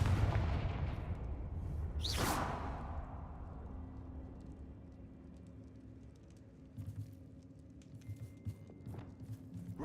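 A Confringo fire-blast spell cast in Hogwarts Legacy gives one sharp whooshing burst early on, then softer rumbling and scattered crackles fade out behind it.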